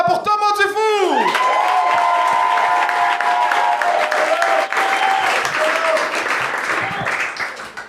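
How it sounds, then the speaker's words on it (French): A studio audience breaks into loud, sustained applause with cheers and whoops for a comedian on a televised amateur talent show, the clapping continuing for several seconds and tapering slightly at the end, with a brief voice heard early on. "un tonnerre d'applaudissements pour Thomas Dufou!"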